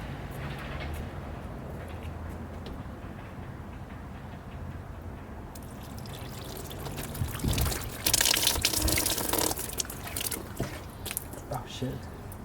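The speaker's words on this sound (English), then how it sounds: "So I'm going to pour water and we should see it come out the drain." Water poured from a watering can trickles and splashes through the sunroof drain of a MINI Countryman, starting soft and swelling into louder spattering bursts near the end, with someone talking throughout.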